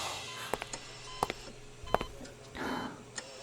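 Telephone keypad tones ring out as a handful of short, separate beeps spread over a few seconds above a quiet room hum.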